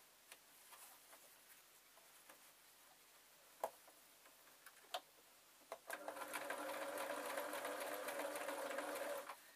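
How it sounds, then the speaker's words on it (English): Domestic sewing machine stitching felt for a jodhpur stocking: quiet ticks and taps as the fabric is eased round, then a steady close whirring run of stitching for the last few seconds, with no talk. "I'm going to ease it round now so that I can sew in the rest"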